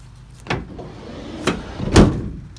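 A Ford Transit cargo door fitted with an electronic deadbolt lock is shut, giving a few close thuds and clunks of latching over a quiet background, the last one loudest.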